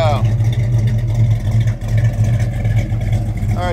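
A 1969 Chevelle SS 396 with a four-speed sits idling close by, its V8 holding a steady, loud, throaty rumble with no revving.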